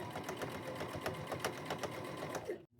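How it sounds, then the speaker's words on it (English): A sewing machine runs a top stitch along a serged seam on a bib jumper sewn from shower curtain and yard flag fabric, giving a close, steady whirring drone that cuts off abruptly just before the end. "I'm going to run me a top stitch all the way down, and that'll hold that serging down"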